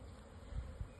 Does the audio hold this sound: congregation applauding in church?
no